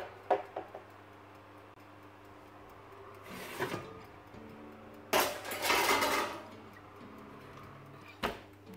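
A pan of white fish slid into a home oven, with faint ticks and clinks of metal and oven rack, then a louder clattering burst and a sharp final knock, no talking.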